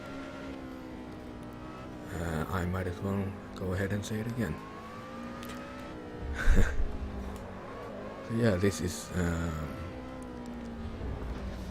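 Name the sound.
car driving in Assetto Corsa racing video game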